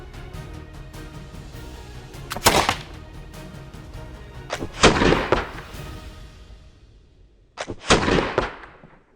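A historical pirate-era gun is fired three times at intervals of a few seconds, each a loud, sharp report followed by a long rolling decay, heard outdoors with no talk.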